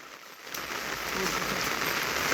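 Steady rain patters on a surface, a soft continuous hiss that grows slightly louder, with no talk.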